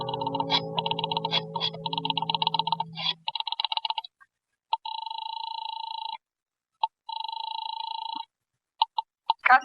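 A radio-drama telephone rings in repeated bursts of a bright electric bell, first over a low droning tone, then alone in spaced double rings separated by silence, with a few clicks at the end.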